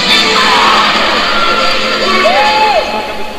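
Crowd at the 2013 World Weightlifting Championships, 77 kg snatch, roaring and cheering loudly and steadily with whoops and shouts rising above, briefly swelling then easing slightly toward the end.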